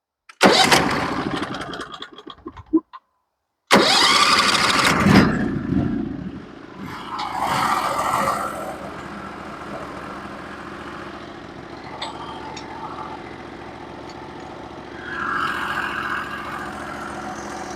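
A sawmill engine cranks over with a loud burst, stalls briefly, then catches and roars before settling into a steady, lower idle that runs on for many seconds, with occasional surges.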